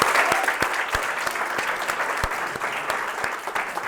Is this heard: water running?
no